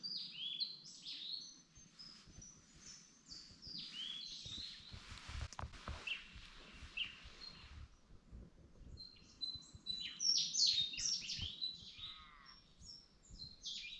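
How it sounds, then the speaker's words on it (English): Birds chirp and tweet repeatedly at a quiet riverside campsite in the Australian bush, with scattered calls near and far over faint ambient rustling and patter. "Apart from the tweeting of the birds,"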